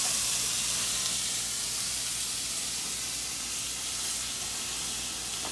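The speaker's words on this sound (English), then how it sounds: "I'm gonna add my diced vegetables and I'm gonna add my diced onions." Diced vegetables and onions hit a hot pan and sizzle with a steady, even hiss that holds throughout, close and moderately loud, with no talking.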